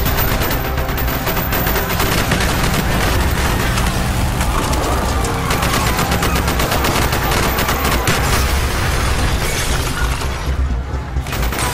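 Covering fire in a Call of Duty: Black Ops street fight: a relentless, loud barrage of automatic gunfire, shotgun blasts and shattering debris filling the whole stretch without a pause.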